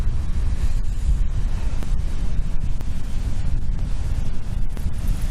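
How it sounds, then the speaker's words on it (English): Big waves crash and roar continuously onto the shore at Hunstanton on a high tide, loud and close, mixed with heavy wind buffeting the microphone. "Yeah, no, it's big waves."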